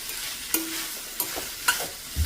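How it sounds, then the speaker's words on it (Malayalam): A stir-fry of raw plantain and beans being stirred in a pan, steady sizzling with occasional sharp scrapes and taps of the spoon against the metal, near and unaccompanied by speech. "ഇനി കായും പയറും നല്ലതുപോലെ ചേർത്ത് മിക്സ് ചെയ്ത് കൊടുക്കാം."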